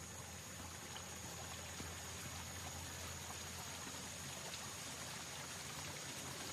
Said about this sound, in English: Heard some water running over here.